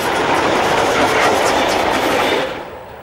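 A DB class 160 locomotive, number 160003, running light without a train on the line back from Hallturm toward Bad Reichenhall, giving a steady loud rolling rumble with rail clatter that fades slightly at the end.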